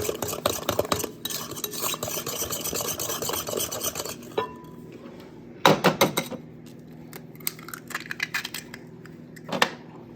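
Farm fresh egg yolks, dark orange, being mixed into orange cranberry cake batter one at a time with a Danish dough whisk, giving steady close scraping and stirring against a bowl, with sharper clinks and knocks near the middle and end.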